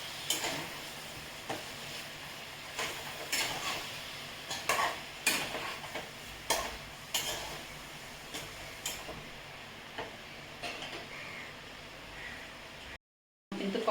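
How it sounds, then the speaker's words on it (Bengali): Chicken and vegetables stir-fried in a pan over a medium flame, with steady sizzling and repeated scraping stirs at a moderate, close level, alone without talk. "ভালো করে আমি কষিয়ে নিচ্ছি।"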